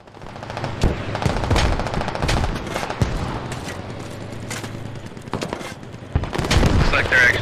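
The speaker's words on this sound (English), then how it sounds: "All rifles in the game sound different." In the video game Squad, bursts of rifle and machine-gun fire crack out at varying distances, some sharp and close, others muffled and far, scattered irregularly over a busy battlefield din with a voice talking over it.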